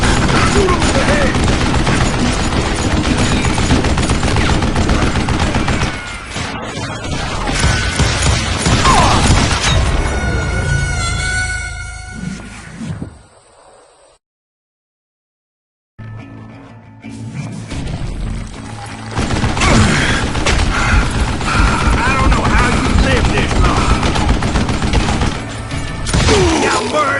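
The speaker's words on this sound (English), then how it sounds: "Shoot him in the head!" Gunfire in the Call of Juarez: Gunslinger video game, with dense, loud rapid shooting and crashing impacts, a brief near-silent pause midway, then heavy firing resumes, with bits of game voice mixed in.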